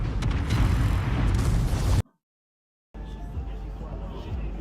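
Loud, dense rumbling blasts of torpedo explosions fill the first two seconds, then cut to silence before another sustained roaring burst resumes.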